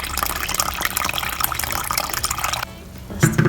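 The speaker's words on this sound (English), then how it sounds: "We then pour in the liquid ingredients slowly by slowly as we mix. This is unpasteurized milk." Unpasteurized milk poured slowly into snack batter while mixing: a steady, close liquid trickle with faint splashing, then a brief quieter stretch before a louder burst of sloshing at the end.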